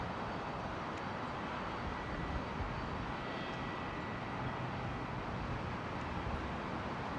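An Air Canada airliner at London Heathrow Airport produces a broad, steady jet roar that fills the air continuously, loud and unbroken with no talking.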